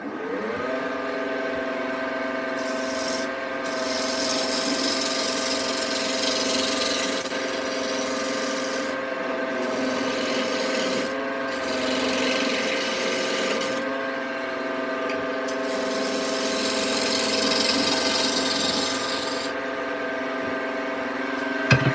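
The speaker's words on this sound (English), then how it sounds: "And then we'll use the square carbide tool to finish it up." A square carbide tool cutting wood on a spinning lathe, with a steady motor hum and a continuous scraping, rasping cut that rises and eases in brief passes.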